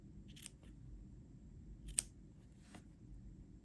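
Scissors snipping crochet yarn while finishing a small crocheted cardinal bird, three quiet crisp snips spread over a few seconds, the sharpest one in the middle, heard alone against a faint low room hum.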